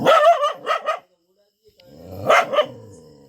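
Dogs bark in two loud bursts of rapid, close barks, with a short silence between them.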